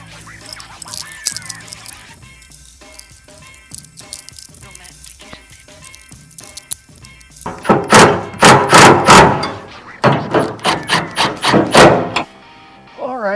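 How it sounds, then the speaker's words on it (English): A gas tank is worked back into place on an old abandoned truck with a 460 engine, producing scattered metallic clunks and knocks, then a busier run of loud thuds and bangs near the end. "Now we attempt to get the gas tank back into place and film at the same time."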